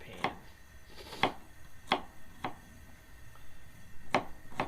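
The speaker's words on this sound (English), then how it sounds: "just chop this garlic clove and get it ready for the frying pan" A knife chops on a cutting board in sharp, irregular taps, about six strikes with pauses between, close and quiet with no speech.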